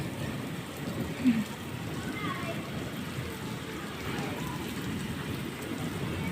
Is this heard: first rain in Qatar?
yes